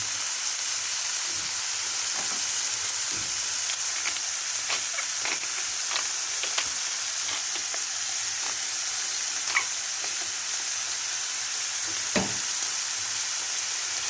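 Morel mushrooms sautéing in a pan, a steady close sizzle and hiss throughout with occasional soft clicks and stirring scrapes; no talk.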